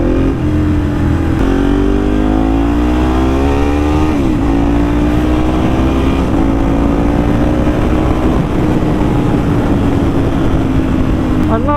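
A motorcycle accelerates hard on a wet road, its engine loud and close, pitch climbing through repeated gear changes in a continuous roar.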